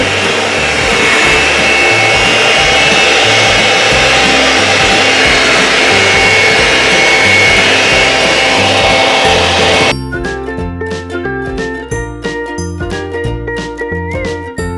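Sugar is whisked into a three-ingredient cloud bread mixture, making a loud, continuous electric mixer whir that changes to a lighter, choppier rhythm toward the end.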